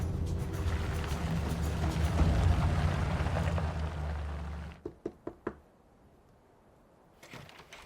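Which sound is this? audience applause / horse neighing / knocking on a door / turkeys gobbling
knocking on a door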